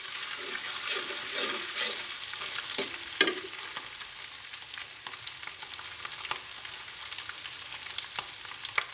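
Garlic, ginger and three dried chillies sizzle and crackle steadily in hot oil, with scattered scrapes of a spoon stirring the pan throughout and a sharper clack near the middle.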